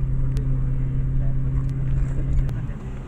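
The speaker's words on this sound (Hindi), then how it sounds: "ऑफ रोडिंग हो रही है" A Jeep rumbles steadily as it drives off-road near Salalah, Oman. The low engine drone is close and continuous, with brief rattles, and voices can be heard inside the vehicle.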